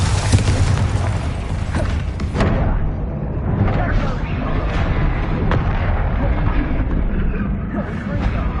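The Bombarda spell goes off in Hogwarts Legacy during a fight against a troll, a heavy booming blast with a rumbling low tail, followed by more rolling impacts and game effects that stay loud throughout.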